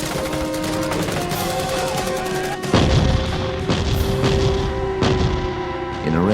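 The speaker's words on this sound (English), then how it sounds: "In a rare move, artillery fire is called in from the Australian base." Heavy artillery fire in battle, Australian base shells landing amid a firefight: a dense, loud barrage of booms and crackling gunfire with sharp blasts repeating throughout, close and continuous.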